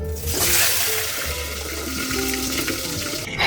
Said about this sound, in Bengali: এইভাবে রোস্টের মাংসগুলো আমি ভেজে নিচ্ছি